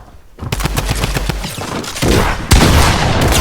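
Rapid gunfire in a video game firefight including a combat shotgun, a loud close burst of many quick shots followed by heavier blasts and booms, with no talking over it.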